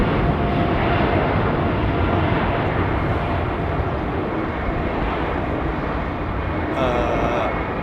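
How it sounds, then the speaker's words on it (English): A Kenya Airways Boeing 787-8 airliner taxis at Heathrow Airport, its engines giving off a loud, steady, broad roar that fills the whole stretch without letting up. "Kenya Airways 787-8 to Nairobi, taxiing out now."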